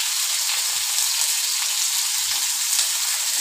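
Chopped onion drops into hot oil with garlic already in the pan, giving a steady, bright sizzling hiss that carries on evenly throughout, close and fairly loud.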